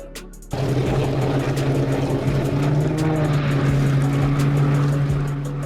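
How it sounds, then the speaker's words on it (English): An Air Tractor 802 Fireboss, a small float-equipped firefighting aircraft, gives a steady loud propeller engine drone with a strong low tone, starting abruptly and holding constant throughout. "802 Fireboss, a small, agile aircraft equipped with floats for water landings"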